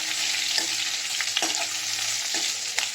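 Finely chopped green chillies frying in hot oil for the tempering of a red pumpkin kadhi, with a steady close sizzle and a few soft stirring scrapes, alone without talk.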